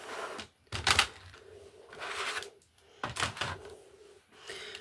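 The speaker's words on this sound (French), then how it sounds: "on va pousser le massicot" A paper guillotine cutter being pushed through a stack of paper while making a flower or cosmetics container, giving several short dry clacks and scraping slides close by, separated by brief pauses.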